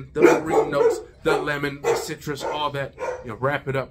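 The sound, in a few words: dogs barking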